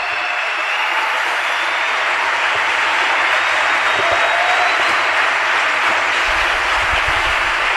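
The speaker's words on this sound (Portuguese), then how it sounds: "vamos bater palmas em pé para eles" An audience gives a standing ovation to volunteers at a museum conference, sustained dense applause that stays loud and steady throughout.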